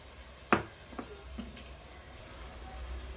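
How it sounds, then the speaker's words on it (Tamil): Small onions sautéing in a pan, a soft, steady sizzle heard close with a few light clicks of stirring, no voices. "இப்போ நமக்கு இங்கே இந்த வெங்காயம் வதங்கிட்டு இருக்குங்க."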